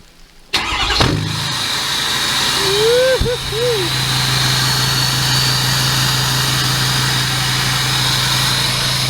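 A 6.7 Power Stroke diesel truck engine cold starts with a sharp cranking burst, then settles into a loud, steady, rumbling idle with a brief rise and dip in revs early on.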